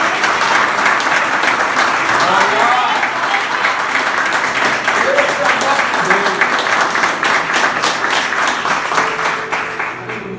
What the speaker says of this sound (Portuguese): dá uma salva de palmas ao Senhor por essa palavra